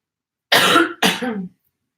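Two close, forceful coughs in quick succession from someone recovering from illness, heard alone against silence.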